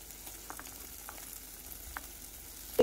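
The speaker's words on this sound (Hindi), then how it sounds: "सबसे पहले हमने इसमें बटर डाल दिया है, उसके बाद हम ये जो प्याज रखी थी ये डाल देंगे।" Chopped onion going into melted butter in a pan, giving a faint, steady low sizzle with a few soft taps and scrapes and a brief louder clunk at the end; no voice is heard.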